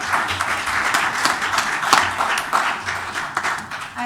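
Applause at a Norwalk Board of Education meeting, a steady patter of clapping from a modest crowd that lasts throughout, moderately loud with no voices over it.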